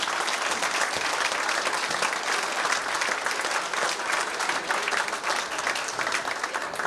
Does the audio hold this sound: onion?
no